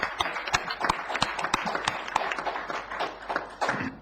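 Audience clapping for a conference panel, sustained dense applause from a room full of people, close and loud throughout.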